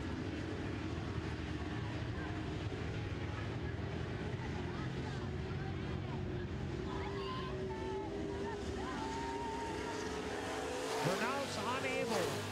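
Super trucks racing on a track, the Miller Race Engines number 25 among them, produce a continuous engine roar mixed with crowd and ambient noise, with a commentator talking over it.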